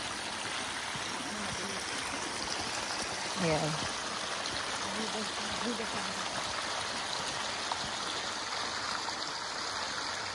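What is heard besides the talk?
babbling stream water on Mount Diablo hike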